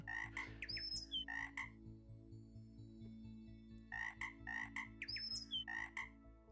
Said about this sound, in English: Two frogs, okay.